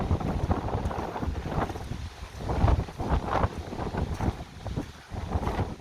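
Strong gale-force wind on a very windy day in the Scottish Highlands near Glencoe, buffeting the microphone in loud, continuous gusts that swell and ease over several seconds with no talk.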